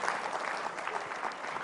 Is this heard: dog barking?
no